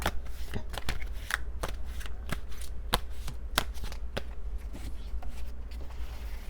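Tarot cards are shuffled and drawn in a rapid run of crisp snapping clicks and flutters over a steady low hum, close and fairly quiet, with no one talking.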